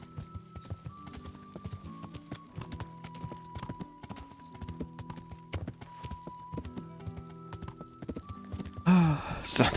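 Horse hooves clip-clop in a steady trotting rhythm in the video game Kingdom Come: Deliverance, over a faint tonal hum, ending with a sudden louder burst of noise.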